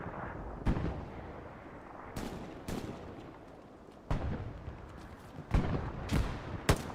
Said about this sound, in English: Artillery strike called in from the Axis landing front door.